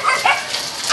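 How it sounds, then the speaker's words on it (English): Dogs barking in an office backyard during heavy rain and flooding, a short, close, loud burst of yips and whimpering barks. "So they are barking."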